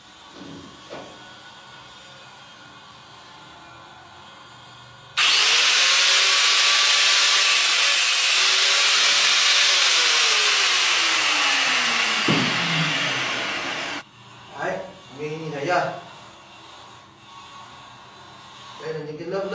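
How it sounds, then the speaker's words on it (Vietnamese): A hand saw cuts through the carbon frame of a Guang Yu badminton racket, a loud, steady rasping lasting about nine seconds at close range, followed by quieter handling noises. "bây giờ thì cưa nốt bên thân bên này"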